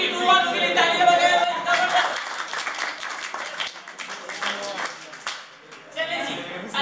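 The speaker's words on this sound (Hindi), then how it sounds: "42 वालों के लिए तालियां बजाएं" Students in a classroom give a short round of applause, a few seconds of scattered close hand clapping, with a voice speaking before and after.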